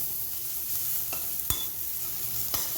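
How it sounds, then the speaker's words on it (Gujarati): Chopped onions sautéing in a pan for a moong dish, a steady soft sizzle with a few sharp spatula scrapes and clicks against the pan, close and alone without talk. "હવે તેની અંદર આપણે કટ કરેલી ડુંગળીને એડ કરી દઈશું અને આને પણ આપણે સાંતળી લઈશું"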